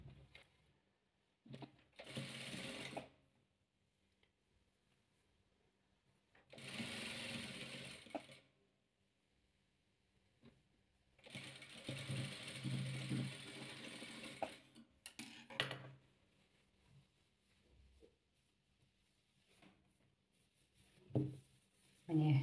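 A sewing machine stitches red and blue patchwork pieces for a windblown quilt pattern. It runs in about five separate short bursts, with quiet pauses between runs.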